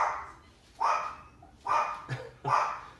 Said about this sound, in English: I'm gonna make the dogs stay quiet.